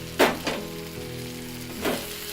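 Potato, spinach and tomato sabzi sizzling in a pan, a low steady frying hiss with two sharp bursts of spatter as ingredients hit the oil, plus a faint background hum.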